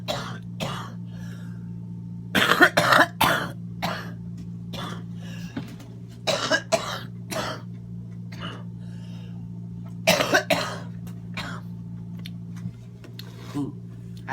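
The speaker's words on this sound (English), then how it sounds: "I might cough for a minute" Several short bursts of coughing and throat clearing, some in quick clusters, close by over a steady low hum, with brief breathy noises between.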